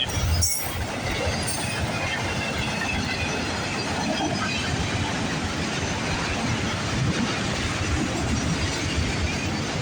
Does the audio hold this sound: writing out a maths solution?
no